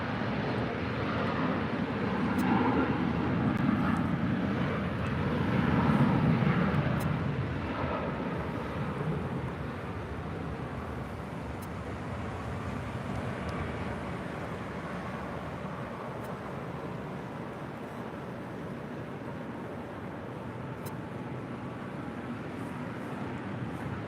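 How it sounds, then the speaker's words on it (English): An airliner, flight 640 arriving from Guatemala City at LAX, rumbles past as a broad steady roar, louder in the first seconds and then holding at a constant drone, with wind buffeting the microphone. "That is flight 640 coming in from Guatemala City."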